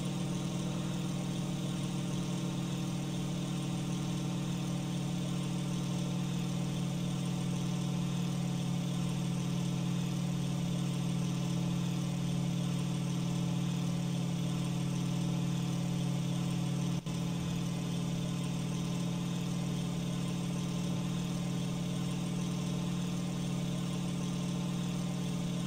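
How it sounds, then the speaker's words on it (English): A WWII-era aircraft piston engine in the IL-2 1946 flight simulator drones steadily at constant power, overheating, a loud continuous hum with no talk. "Engine's overheating, let's go ahead and lower our power for the engine."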